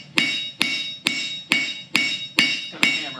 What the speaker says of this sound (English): Let's hammer this flat.